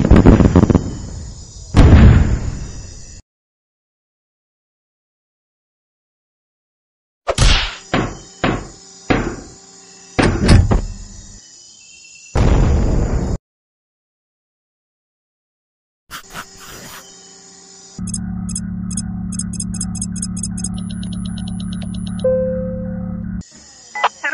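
Video game turret firing missiles from a SAM battery in Henry Stickmin: sharp bursts and booming blasts in separate clusters, loud and close, with a sustained low rumbling roar and beeping electronic tones near the end, no talking.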